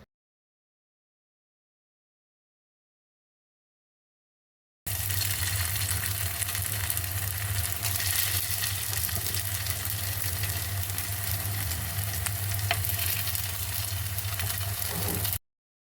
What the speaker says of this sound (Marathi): आता हे तुकडे आपण गॅसवर पॅन गरम करून घेऊन त्यात गोडे तेल टाकून त्यामध्ये शॅलो फ्राय करायचे आहेत